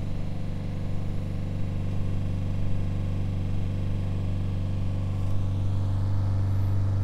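A forced-oscillator Bedini motor runs steadily with a constant low electrical hum and faint whirring overtones, close and unvarying throughout.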